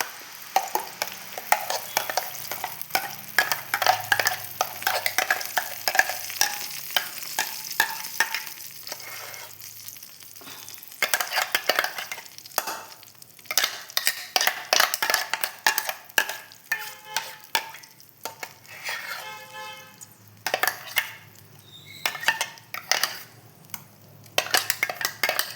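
Ground jackfruit seed paste for halwa sizzles and fries in a pan while a spoon stirs and scrapes against the metal in steady, busy strokes, with occasional clinks of utensils; no talking.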